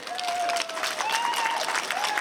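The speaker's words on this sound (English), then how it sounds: "Clap if you can hear." A crowd at an outdoor Queer Pride gathering in Groningen applauds in a dense, steady wash of clapping, loud and sustained, with a whistle-like tone drifting over it.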